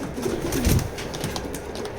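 Racing pigeons coo in a loft, soft low rolling calls over a steady background hum, with a brief louder burst near the middle.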